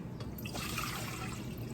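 Water pours steadily into a measuring cup, a close, continuous splashing gush with no speech.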